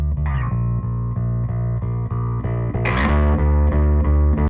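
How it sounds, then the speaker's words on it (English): Heavily distorted bass notes repeat in a steady rhythm, thick and gritty, with a brighter burst of distortion near the end; no voices. "what you would do usually is to bring up the distortion with the fader"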